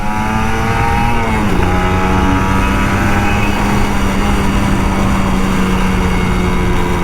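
An older Kawasaki Ninja RR 150 two-stroke motorcycle riding through Jakarta streets, its engine droning loud and steady close by, the pitch dipping once early on and then holding an even note.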